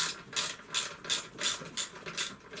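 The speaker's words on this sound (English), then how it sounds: "Stubby ratchet's a godsend for this." Stubby ratchet clicking as it turns a bolt during an engine rebuild on a Honda Vision 110 scooter, about seven quick rhythmic bursts of ratcheting, close and moderately loud with no talk.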